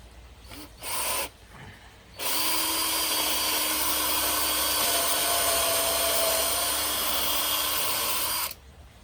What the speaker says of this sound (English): 8mm drill bit. Drill a hole through your wood, 8mm.